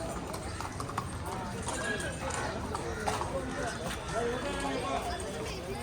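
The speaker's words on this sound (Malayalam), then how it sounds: "കുതിര റൈഡിങ് ഹോഴ്സ് റൈഡിങ്." Horse-riding hooves clip-clop steadily on a busy tourist outing in Ooty, a continuous rhythmic clatter under constant crowd chatter and people talking nearby.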